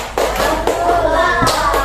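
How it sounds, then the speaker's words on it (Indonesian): A few scattered hand claps from students in a classroom, brief and uneven bursts rather than sustained applause, with no talking. "berikan tepuk salut untuk kelompok tanya"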